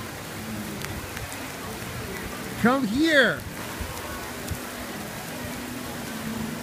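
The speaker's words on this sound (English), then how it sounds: "It's raining outside there." Steady rain hisses throughout at Epcot, and a voice calls out briefly partway through.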